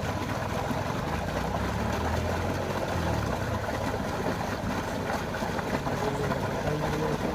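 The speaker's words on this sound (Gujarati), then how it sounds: "અમારી કંપનીની મોટર છે." A 7.5 hp motor pump driving irrigation sprinkler fountains from canal water hums with a steady low mechanical drone, constant and unbroken alongside a faint wash of spraying water.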